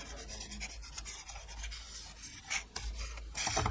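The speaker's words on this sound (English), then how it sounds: "make sure it's straight, and burnish it down." Steady rubbing and scraping of a burnishing tool pressed along a score line on paper, close and soft, continuous friction with a few slightly louder strokes near the end.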